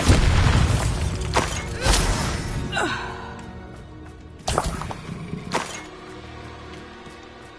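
Spell blasts from the Hogwarts Legacy video game, including a Bombarda explosion: a loud opening boom that rumbles and fades, followed by several sharp whooshing impacts and a second heavy burst that decays away.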